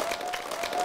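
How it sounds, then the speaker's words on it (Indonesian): Brief, faint clapping from a group of pupils in a Year 4 science class, soft and blurred together in under a second. "Tepuk tangan kumpulan orang."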